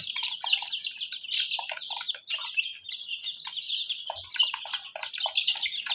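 Chicken chicks kept as backyard pets chirp continuously in high, shrill peeps while scuffling and fighting, a dense busy chorus that stays close and steady with no talk over it.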